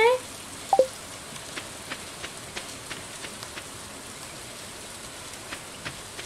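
Rainfall in the farming video game Stardew Valley on a spring day: a steady soft hiss of rain with faint ticking drops at regular intervals, and a couple of brief game chimes at the start.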